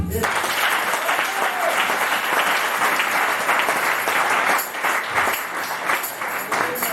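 A church congregation claps steadily and loudly throughout, a dense sustained round of applause from a crowd, with a brief dip near the end before picking up again.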